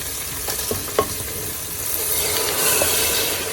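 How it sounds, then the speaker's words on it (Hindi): Onion masala fries in a pot with a continuous sizzle, broken by a few scraping stirs of a spoon near the start; no voices. "अब इसको भूनते हुए 10 मिनट हो चुके हैं"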